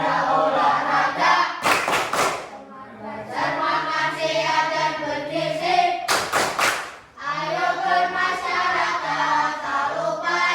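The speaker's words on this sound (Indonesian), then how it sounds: "Tepuk anak Indonesia hebat." Schoolchildren perform the Tepuk Anak Indonesia Hebat clap in a classroom, chanting the verse in unison while two sharp bursts of group clapping cut through the singing.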